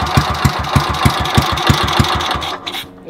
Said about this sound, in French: C'est comme ça qu'ils faisaient les mecs pour éteindre la moto.